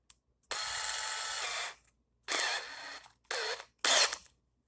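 Pull-start cord yanked on a tiller engine that fails to catch, four close rasping mechanical pulls, the first long and the rest shorter, each separated by silence.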